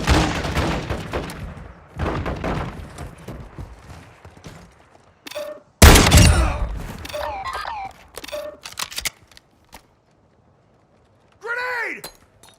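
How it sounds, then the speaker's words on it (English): Gunfire in Call of Duty Warzone 3 DMZ on Al Mazrah, solo play with a shotgun: sharp, loud bursts and single shots come in clusters, with a radio-style game voice speaking between them. "You are taking effective fire. Taking effective fire!"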